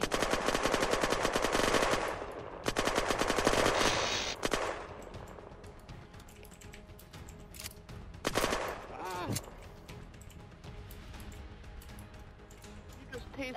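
Automatic gunfire in the survival game Unturned, dense rapid bursts in the opening seconds that thin into scattered shots and game noise.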